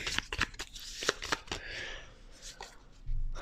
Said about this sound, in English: Let's shuffle them up and see what we get.